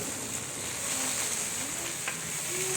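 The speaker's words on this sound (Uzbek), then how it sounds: "Suv quyish jarayoni." Water is poured into a hot cauldron of rendered fat in a teahouse kitchen, giving a steady close hiss and sizzle that stays even throughout, with faint background voices.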